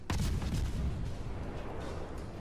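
Naval gunfire in World of Warships, a sharp boom opening the clip followed by a rumbling, rolling roar of distant shell fire that lingers at moderate volume, with no talk.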